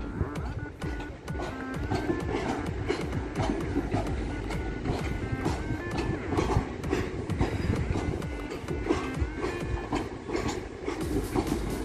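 Long coal freight train rolling steadily through Sheffield railway station, a continuous close rumble of wagons with rhythmic wheel clatter and occasional metallic squeal, no talk over it.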